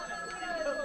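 A telephone rings with a steady electronic warble, fairly loud and close, running through the whole brief moment with no talk over it.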